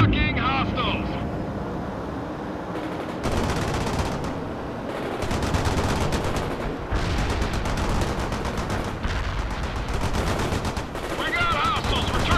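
Battle gunfire from the video game World in Conflict rattles in dense automatic bursts with explosions and vehicle rumble, continuing throughout while radio-style voices speak over the fighting.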